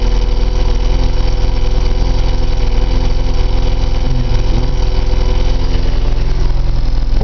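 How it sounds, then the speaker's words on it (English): Austin Allegro engine idling steadily just after a cold start, its thick oil still warming, a continuous low rumble with a faint uneven flutter, close and alone without speech. "I'm not going to rev it up because that's the worst thing you can do with a cold engine."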